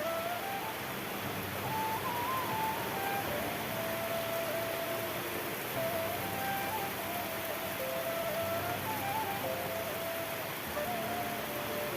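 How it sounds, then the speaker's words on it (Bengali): Heavy rain pours down in a steady, dense hiss that stays even and continuous throughout, moderately loud and close by, with no speech over it. "এদিকে দেখো বৃষ্টি চলে এসছে ঝমঝমিয়ে"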